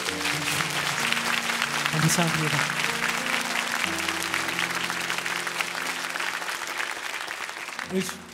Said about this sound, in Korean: 좀 큰 격려의 박수